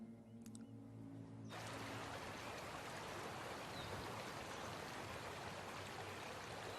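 A river flows as a steady, dense broadband rush of water that begins abruptly after a brief quieter moment and continues evenly, faint and without talk.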